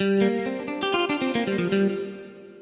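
A short clean electric guitar voice phrase on a Yamaha PSR-E473 keyboard, quick notes with light effects, then a held note fading out.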